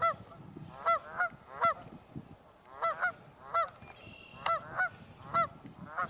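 Geese honking in repeated bursts, several birds calling in close succession at moderate distance, with a brief pause between flurries; no talking.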